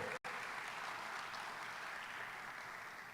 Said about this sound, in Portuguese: Dá um aplauso para o sangue de Jesus.